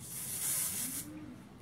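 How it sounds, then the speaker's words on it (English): Big Sexy Hair hairspray sprayed onto an eyebrow spoolie, one short close hiss lasting about a second and then fading out. "Big Sexy Hair Hairspray, and I spray it on my spoolie"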